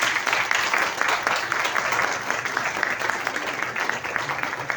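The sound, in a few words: audience applause after a presentation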